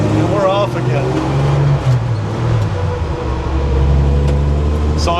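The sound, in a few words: 1962 Dodge M37B1 military truck engine while driving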